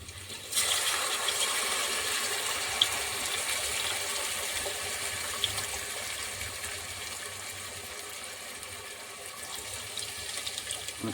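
Tamarind water pours steadily into a pan of fish curry, a continuous liquid splashing and gushing that runs at even strength for about ten seconds before stopping.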